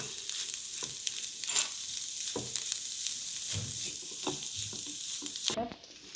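Sautéed onion and egg being mixed in a pan for chapati egg rolls, a steady nearby sizzle broken by repeated spatula scrapes and taps, ending abruptly.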